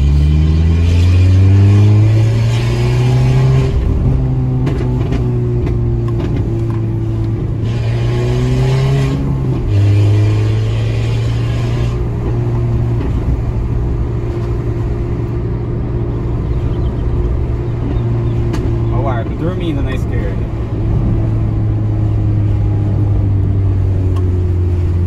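Peugeot 206 1.4 with only a straight exhaust pipe, heard onboard while accelerating: a steady loud engine drone climbs in pitch through the revs, drops at a gear change and climbs again, with no talk over it.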